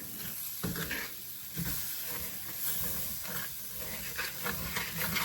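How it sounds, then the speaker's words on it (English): Rice with seasonings and a bay leaf being stirred through hot fat in a pot, a soft continuous hiss with repeated scraping and shuffling strokes of the spoon, close and fairly quiet. "we're going to just stir this long enough to make sure that everything is well coated"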